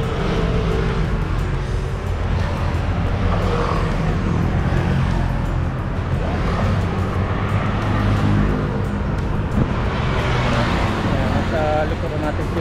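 A car drives along a road, giving a continuous low rumble of engine and tyres with a faint wash of surrounding traffic throughout.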